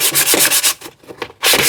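Hand sanding wood with sandpaper during hand-tool building of a TV unit, a series of brisk, gritty back-and-forth strokes, loud and close, with a short pause before a final stroke.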